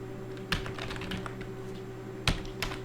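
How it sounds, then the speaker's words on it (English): Sparse keystrokes on a computer keyboard during configuration of a Debian Linux email server, a few separate taps with a couple of sharper clicks over a steady electrical hum. "Be very careful when you're typing these out that you spell things correctly and such."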